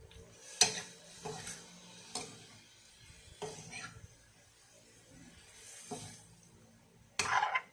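Pork liver with calamansi is stirred in a pan, giving soft scraping and occasional clinks of a utensil against the pan over a faint sizzle, sparse and fairly quiet, with no talk.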